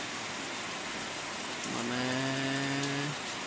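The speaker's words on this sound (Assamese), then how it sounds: "আজি 4 দিনৰ মূৰত বৰষুণ দিছে" Steady hiss of rain falling, a continuous even wash throughout, with a low droning tone rising briefly in the middle.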